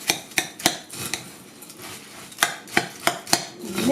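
Spoon clinking against a mixing bowl while stirring granola ingredients, a rhythmic series of sharp close knocks in two bursts separated by a short pause.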